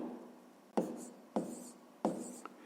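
Pen on paper writing out a fifth-grade math solution by hand: three distinct scratchy bursts of strokes, close and quiet, with no talking.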